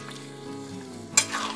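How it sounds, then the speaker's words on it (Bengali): Jackfruit curry being stirred in a pan over low flame, a soft close sizzle with a sudden scrape of the spatula near the end. "খুব ভালো করে মিক্সড আপ করে নেব।"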